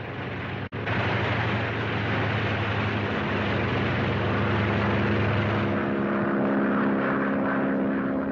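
Airplane engine sound effect in an old radio serial, a loud continuous propeller drone with a steady low hum that holds throughout after a brief cut near the start.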